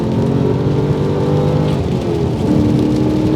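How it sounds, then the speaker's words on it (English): Holden VY Commodore Clubsport R8 V8 engine revving under throttle, a loud continuous rumbling drone with a brief dip and swell as it picks up again, heard from inside the car. "oh, that is a V8 alright"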